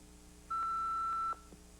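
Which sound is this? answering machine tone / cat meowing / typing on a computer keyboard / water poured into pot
answering machine tone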